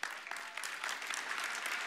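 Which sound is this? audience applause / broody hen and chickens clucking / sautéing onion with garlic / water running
audience applause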